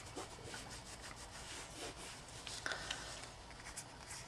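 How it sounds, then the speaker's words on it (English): Rubbing over embossed detail on a chili pepper craft project, a steady dry scraping and rasping that continues without a break, close up and moderately quiet. "we're going to keep rubbing till this goes on"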